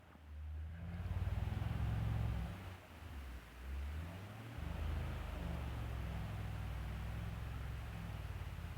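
A car engine revs as it struggles up a snowy hill in a snowstorm, a low, loud drone that surges and dips in uneven pulses over a hiss of wind and snow.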